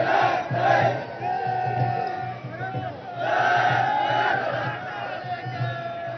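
A crowd of Maratha protesters outside CSMT station in Mumbai shouts slogans in loud rhythmic chanting bursts, swelling and fading in waves against a busy street background.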